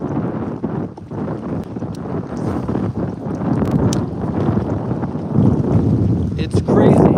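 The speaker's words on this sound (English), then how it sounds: "It's very windy right now." Strong wind buffets the microphone at a lakeside fishing spot, a continuous loud roar with gusty swells throughout.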